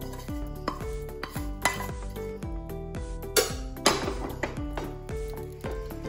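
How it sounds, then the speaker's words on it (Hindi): Fried squid stirred into a butter garlic gravy in a pan, with a spoon scraping and clinking against the metal in a steady, repeated rhythm, close and fairly loud. "स्क्विड्स घालून हे बरें सगळं मिक्स करून घेऊया।"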